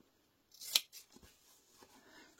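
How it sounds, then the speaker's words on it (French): Scissors snip the corners of a fabric octagonal cushion cover, one sharp close cut followed by a few softer snips and fabric rustling, with no talking. "Et là, je vais couper les coins comme ceci."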